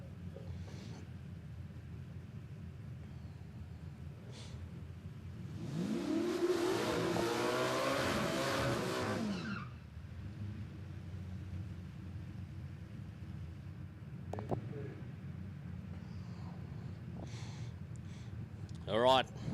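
A drag racing car makes a run at Palmyra Raceway, a loud burst of revving, accelerating engine noise lasting a few seconds before fading, with a low background rumble and brief crackles around it.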